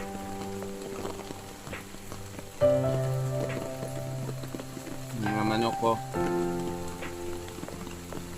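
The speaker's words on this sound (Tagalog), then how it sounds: "kagabi pa itong ulan." Steady heavy rain patters on surfaces in a bonsai garden throughout, with someone talking over it and a few brief thumps and clatters midway.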